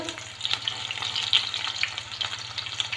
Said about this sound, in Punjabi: ਜੋ ਬੜੀਆਂ ਪਾਣੀ 'ਚ ਭਿਉਂਤੀਆਂ ਸੀ ਉਹਨਾਂ ਨੂੰ ਆਪਾਂ ਥੋੜਾ ਫਰਾਈ ਕਰਾਂਗੇ